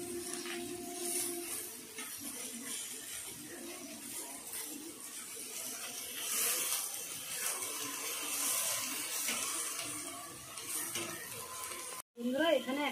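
Home-grown ridge gourd fries in a pan with a steady sizzle and intermittent stirring scrapes. The sound is fairly quiet and close and briefly drops out near the end.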